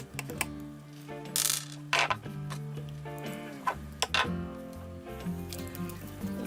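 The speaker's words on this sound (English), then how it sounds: "Pop off that diffuser." A plastic diffuser being pried and popped off inside a Sharp LCD TV during a teardown, heard as close, quiet clicks, snaps and small mechanical clatter spread through a few seconds.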